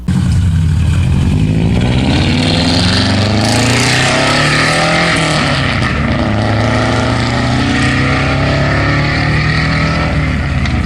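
A Subaru Outback with a 3.5-inch straight pipe exhaust blares loudly and close, its harsh engine note climbing and falling through repeated revs with no talking.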